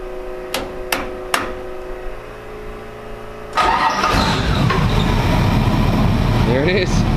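A supercharged car engine running on a new fuel system sits quiet at first, with a few sharp clicks, then cranks and catches into a loud, steady idle that continues close by.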